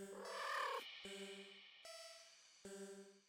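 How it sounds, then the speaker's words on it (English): A contented cat purr from the game Do NOT Take This Cat Home, heard as a soft, repeating pulsed tone in several short segments, the first mixed with a brief noisy swell. "The cat sounds happy."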